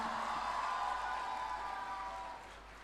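Crowd applause at the Sparsh Himalaya Mahotsav 2025 festival, a steady broad wash of clapping that holds for a few seconds and then begins to fade, moderately distant with no voices over it.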